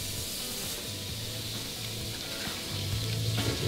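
Onion rings frying in hot oil, a steady close sizzle and hiss running throughout, with a low hum in the background that grows slightly louder near the end.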